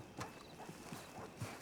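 Horse hooves clip-clopping in a video game, a few soft, evenly spaced thuds at a walking pace, quiet with a faint background hum and no clear whinny.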